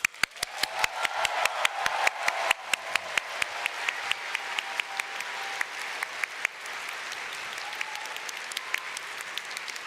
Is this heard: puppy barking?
no